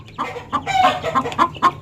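Indonesian village hens (ayam kampung) starting to lay cluck close by in a quick run of short, rhythmic clucks, several in under two seconds, with no talking.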